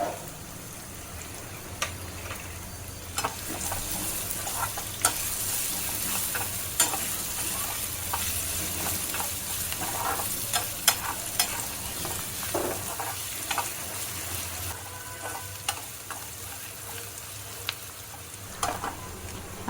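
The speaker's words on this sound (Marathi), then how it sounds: "आता आपण जो बारीक शिरलेला कांदा आहे तो ॲड करूया आणि गोल्डन ब्राऊन होईपर्यंत भाजून घ्यायचं" Finely chopped onion fries with roasted spices in a pan, a steady close sizzle lasting the whole stretch, with scattered scraping taps of a spatula stirring.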